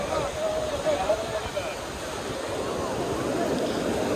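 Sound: sea waves at Cox's Bazar beach

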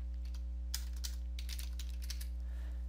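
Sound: typing on a computer keyboard

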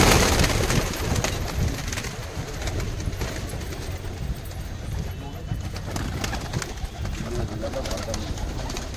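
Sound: pigeons cooing

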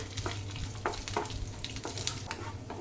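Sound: cashews and almond slices roasting in hot ghee

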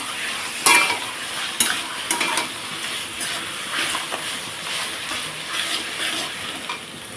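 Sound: frying taro leaves (kochu shak) in a pan

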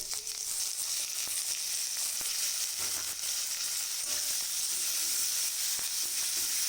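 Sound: frying ground coconut with sesame, chickpeas and nuts in a pan

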